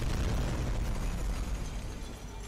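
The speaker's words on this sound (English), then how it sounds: "And his mech just got destroyed!" A mech suit blowing up in a Skibidi Toilet video game: a loud, sustained roaring explosion with dense rumbling debris noise filling the whole stretch, tapering slightly toward the end, with no talking over it.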